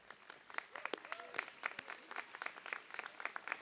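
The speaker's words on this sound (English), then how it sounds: "Graduates, why don't we give it a round of applause for our faculty and staff at Pellissippi State?" Graduates clapping for faculty and staff at a spring college commencement, a sparse, fairly faint scatter of distinct hand claps from a large hall, with indistinct voices and whoops mixed in.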